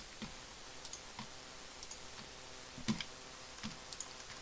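Code is typed on a computer keyboard, light scattered key clicks at an irregular pace with a few louder taps, close and quiet over a faint background hiss.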